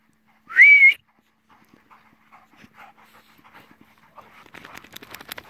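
A dog pants in soft, rhythmic, fairly faint breaths near the end, after a brief high whistle at the start and a stretch of scattered quiet noises.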